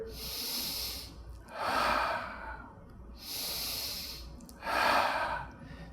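A child in a chair yoga triangle pose breathes slowly and audibly, with two full cycles of soft airy inhales alternating with heavier, breathier exhales. The breathing is close and rhythmic, with no talking.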